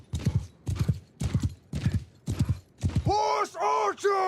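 Horse hooves pound in a steady galloping rhythm of heavy thuds on a Mount & Blade Bannerlord battlefield, close and loud, followed by a drawn-out horse whinny. No one speaks.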